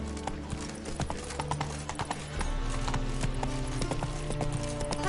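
Hooves of Roach, a horse in the video game Witcher 3, clip-clopping in a steady trotting rhythm close by, with a continuous game soundtrack and ambience underneath.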